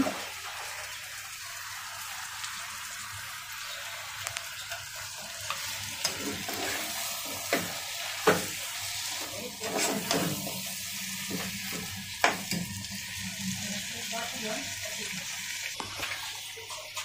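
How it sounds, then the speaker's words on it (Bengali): Five hundred grams of mutton sautéed in a cooked spice masala sizzles steadily in the pan, broken by sharp spatula scrapes and knocks at irregular intervals, close up and without speech. "তো মাংসটা ভালো মতো কষানো হচ্ছে।"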